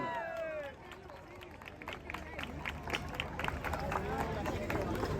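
A crowd claps and murmurs at a Mataró carnival prize ceremony as a winning troupe is announced, steady dense applause mixed with chatter and a few higher voices calling out, growing slightly louder toward the end.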